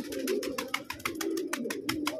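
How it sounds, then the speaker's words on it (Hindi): Pigeons in a loft cooing in a soft, steady run of rhythmic calls, faint and close, with no voices over them. "कबूतर आज बढ़िया आ रहे हैं भाई किसी के।"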